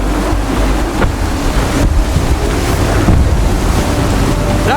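Strong wind roars and ocean waves wash continuously around a sailing ship during a naval mission in Assassin's Creed 3, loud and dense throughout with low rumbling gusts and no pauses.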